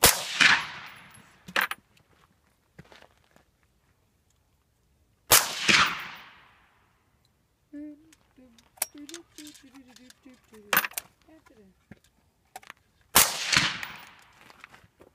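An AR-15 rifle fires three loud, sharp shots at a bottle, several seconds apart. Each shot echoes and rings away outdoors. Brief talking and small clicks and clatter fill the gaps between the shots.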